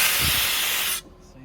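Compressed air hisses loudly from the air compressor on a 2012 Ford F-550 mechanics service truck, a steady rushing blast that cuts off abruptly after about a second, leaving a quiet background.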